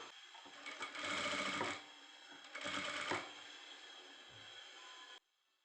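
A sewing machine stitches the edge of a kurti top in two short bursts of rapid mechanical whirring, with quiet pauses between them; the sound is close and moderately loud.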